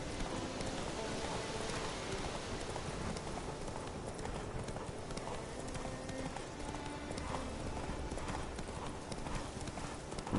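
Horse hooves galloping in The Witcher 3, a steady rapid clip-clop rhythm running throughout under dense, loud game ambience, with faint voices in the background.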